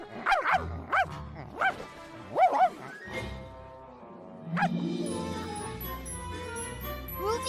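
Cartoon dogs at a dog parade bark in a quick run of yips and woofs, then a softer whimpering tone and a busy, music-like bed take over toward the end.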